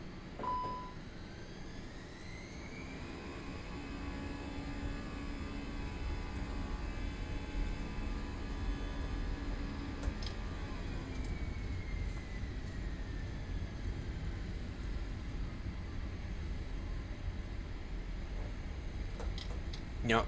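Airliner engines spool up to takeoff thrust, heard from the cockpit on a round-the-world flight: a rising whine climbs, then settles into a steady, loud roar that holds without voices.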